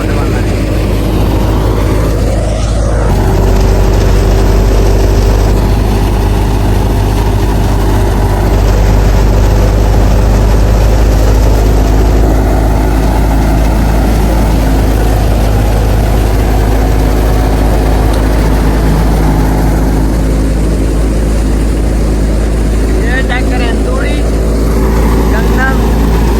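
A tractor engine runs steadily throughout at a wheat threshing heap in a rural field, a loud continuous low drone with a constant hum, while people talk over it now and then.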